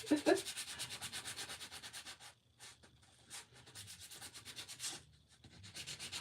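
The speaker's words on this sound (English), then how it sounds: "I'm just scuffing it up again, just to make the paint stick better." A painted burn-barrel snowman craft surface is scuffed by hand so paint sticks better, with quick, rhythmic rubbing strokes close up, broken by a few short pauses.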